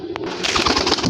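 Rampuri pigeon giving a short, soft coo, a brief close call over a faint background rustle.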